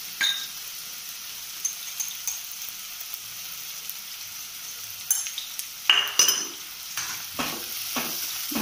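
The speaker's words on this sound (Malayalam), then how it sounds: "ഉള്ളി നന്നായി വഴങ്ങി വരട്ടെ അതൊരു നമുക്ക് മിക്സ് ചെയ്യാം" Onions frying for Palakkad-style beef biryani, with a steady hiss and sizzle under repeated spoon stirring and a few sharp clinks of metal against the pan, all close and moderately loud, no talking.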